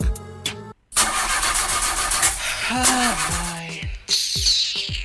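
A broken-down car's engine cranks and sputters while trying to start in a radio skit, with repeated grinding whirs, a brief silence, then rising revving tones and choppy cranking bursts, loud and close.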